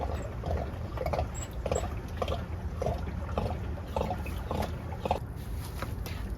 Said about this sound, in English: I'm gonna go ahead and drain the filter here.